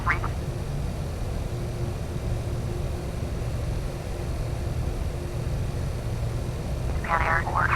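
An airliner's jet engines roaring at takeoff from London Heathrow in Flight Simulator 2004, a steady, loud, broad rush that never lets up, with short bursts of voice at the start and end.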